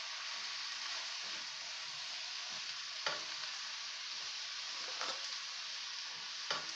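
Chicken chow mein is stirred in a pan with a wooden spoon, giving a steady soft sizzle with a few scraping knocks of the spoon at intervals and no voices.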